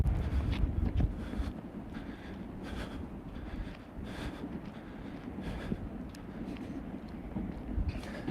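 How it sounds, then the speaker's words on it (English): Outdoor wind gusts buffet the microphone, making a continuous low rumbling roar that swells and dips in uneven bursts throughout, fairly close, with no clear talk. "It's a little bit windy right now."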